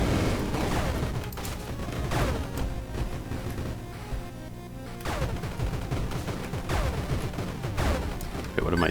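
Dense, continuous volleys of rapid-fire bullet shots from enemies in the video game Star of Providence, loud and relentless with crackling bursts layered over a driving electronic soundtrack.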